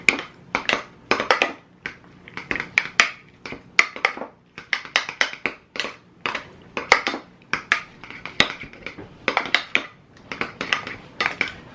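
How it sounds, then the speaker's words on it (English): Ingredients for a crab dip being stirred and mashed in a small bowl, with repeated sharp clinks and scrapes of a utensil against the sides in an uneven, steady rhythm, close up and without talk. "go ahead and mix everything up at this point"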